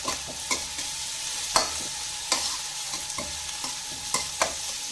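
Ginger, garlic and chili paste frying in a pan, with a steady close sizzle broken by sharp, irregular scrapes and clicks of a spoon stirring, and no voices.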